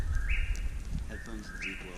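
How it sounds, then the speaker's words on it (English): Birds chirp in the woods of Zaleski State Forest during a backpacking trip, with several short, bright tweets repeating over a low rustling outdoor background. "See you later, birds."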